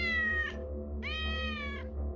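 A single cat meows twice, a short cry followed by a longer drawn-out one, close and clear over a low steady background hum.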